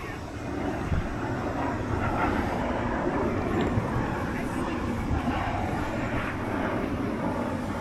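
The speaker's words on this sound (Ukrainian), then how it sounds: "Літачок десь летить на місцевий аеродром" A small propeller airplane drones steadily overhead on its way toward a local airfield, a continuous low engine hum with broadband outdoor noise persisting throughout, moderately loud and with no talk.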